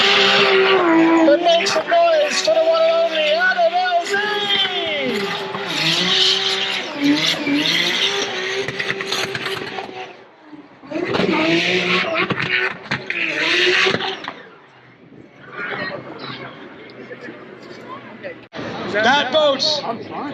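Drift cars skid and squeal their tires on track at the LZ World Tour, with engines revving in repeated loud passes, while a crowd murmurs and voices talk over the action.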